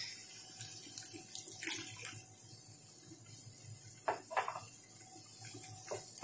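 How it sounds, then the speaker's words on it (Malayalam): The remaining water is poured into a simple homemade pudding mixture of sugar and vanilla essence, making a steady close trickle with a few brighter splashes and clinks of the vessel. "ബാക്കിയുള്ള ആ വെള്ളം കൂടി ചേർത്ത് കൊടുക്കാം"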